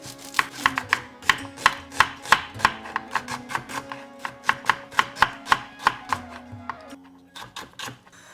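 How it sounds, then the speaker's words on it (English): A knife chops an onion into thin slices on a board, a fast, even run of sharp close taps, about twenty in a row, before slowing and stopping near the end, with no talk. "I'm also going to get one onion and thinly slice this"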